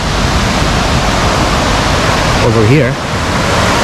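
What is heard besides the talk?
river or creek flowing in Ramsau, Germany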